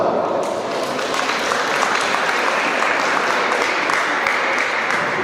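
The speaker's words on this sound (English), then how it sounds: "Give yourself a round of applause" A crowd at a world mayors conference gives a full round of applause, a dense, even roar of clapping from many hands that holds at a constant level throughout.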